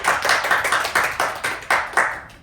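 A small class of pupils claps for a classmate's sandwich demonstration in a Year 4 food design lesson, about ten loose, uneven bursts of close hand claps fading at the end.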